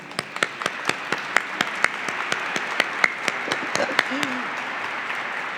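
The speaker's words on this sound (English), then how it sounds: "They get two applause, because if you are a staff member of the Oklahoma Arts Council, will you please stand and be recognized" Scattered applause from the audience at the Oklahoma Governor's Arts Awards as arts council staff stand for recognition, with sparse, distinct claps repeating steadily at moderate volume and a voice briefly heard underneath.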